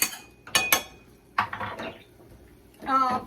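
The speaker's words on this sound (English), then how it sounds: "And then I want to mix my flavor packet around." Utensil clinking and scraping against a bowl or pot while a flavor packet is mixed into noodles, in short separate bursts with quiet gaps between them.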